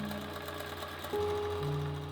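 A sewing machine stitches fabric for a homemade inflatable hand, its motor running in a steady close whir that steps up to a louder, higher hum partway through.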